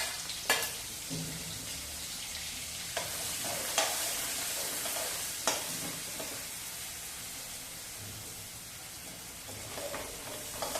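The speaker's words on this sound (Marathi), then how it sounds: "तेल गरम झाले त्यामध्ये थोडीशी मोहरी टाकते थोडेसे जिरे आणि हिरवी मिरची लसूण आणि मीठ टाकून हा जो ठेचा बनवून घेतला तो टाकायचा आहे" Mustard seeds, cumin and a crushed green chili and garlic paste with salt sizzle in hot oil in a pan, a steady close hiss broken by several sharp scrapes of a spoon as it is stirred.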